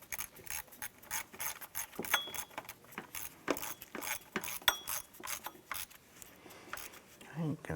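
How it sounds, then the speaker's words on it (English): A gear wrench ratchets as bolts on a 2004-2008 Acura TL power steering pump are tightened, giving a run of quick metallic clicks in irregular bursts, with close, moderately loud clinks of tools between them. "On the back side, we're going to use our gear wrench. And we'll get that one tightened down."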